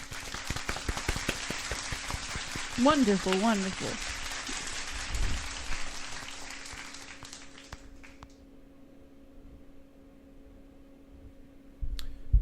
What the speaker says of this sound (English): So round of applause for Ozzy Cat.